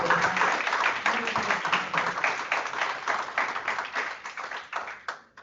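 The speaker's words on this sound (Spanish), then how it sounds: "un aplauso" An audience applauds a guest speaker, a doctor, at a talk on artificial intelligence: dense, steady clapping that holds fairly loud for several seconds, then thins out and fades to a few scattered claps at the end.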